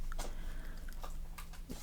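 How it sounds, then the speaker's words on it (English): A dog chewing in the background of a room, giving soft, irregular wet bites and gnawing clicks that stay faint under a steady low hum. "So if you hear chewing and stuff in the background, that's my dog."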